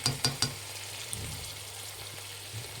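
Onion and tomato frying in a pan for cabbage rice: a soft, steady sizzle throughout, with a few clinks of a utensil stirring at the start.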